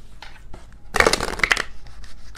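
A brief burst of tarot cards being shuffled, a quick riffling flutter lasting under a second, close and moderately loud against a quiet room.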